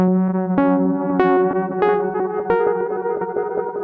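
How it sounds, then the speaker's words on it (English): A Prophet synthesizer runs through a Walrus Fable granular delay pedal, sounding a sustained tone with a steady low drone and a series of bright, shimmering plucked notes that enter roughly every half second and blur into a smeared granular wash, alone without talk. "Just a simple sound, now with Fable enabled."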